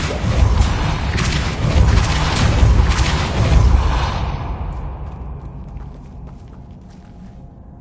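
A Depulso spell cast in the Hogwarts Legacy game on PS5, heard as a loud booming, whooshing burst with heavy low rumble that decays into a fading tail over several seconds.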